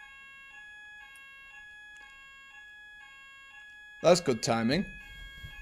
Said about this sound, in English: Uh-oh. I've got a fire alarm.